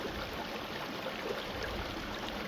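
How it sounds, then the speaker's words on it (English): Steady, close rush of a small creek flowing downhill near a waterfall in the Angeles National Forest, California, a continuous broadband wash with no breaks and no voices. "It's the creek."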